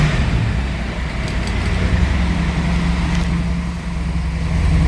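A 1969 Ford Mustang Mach 1 with a Super Cobra Jet engine idles while warming up, a steady, loud low rumble with no change in pace throughout.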